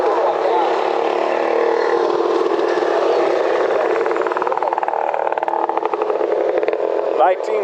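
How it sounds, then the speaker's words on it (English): A 1969 Kawasaki Mach 3 500 motorcycle engine runs steadily at a custom motorcycle show, a loud, continuous drone with a busy, noisy background throughout. "There's a Kawasaki Mach 3 500. I bet that's nice and quiet."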